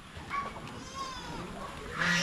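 Goats bleat a few times at moderate distance, with one louder bleat near the end over faint outdoor background noise.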